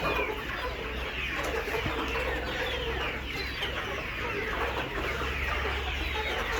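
Many layer chickens about 75 days old cluck continuously in a dense, steady chorus in a crowded poultry shed, with no talking.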